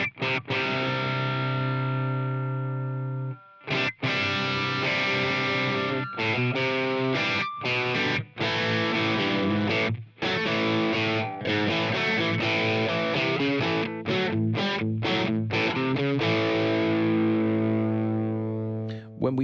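Electric guitar played through an HX Stomp stereo patch blending two amp models, one bright and sizzly, one a bassy rectifier, giving thick distorted chords and riffs with brief stops, loud and continuous.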